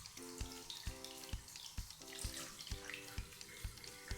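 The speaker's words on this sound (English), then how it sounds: "Just ran under the faucet like I was rinsing dishes." Tap water runs from a faucet over a Casio WS-1700H watch, a steady close splashing stream with rhythmic knocks as the watch is rinsed like dishes.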